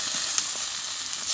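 Chopped vegetables added to fried onion sizzle steadily in a hot wok, a loud continuous hiss of frying with a faint clack or two of stirring, close and without voices.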